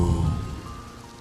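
Steady rain falling, a dense low rumbling wash that is loudest at the start and then eases slightly, with no voices.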